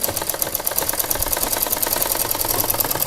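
Sewing machine stitching a petticoat, a fast, even mechanical rattle running continuously and close up.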